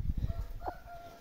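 An Índio rooster of the short-crow line crows once, a brief, fairly faint call rising over low background rumble and thumping.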